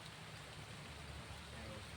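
Rain falls steadily for two seconds, a faint, even hiss with a low rumble underneath and no clear single drops.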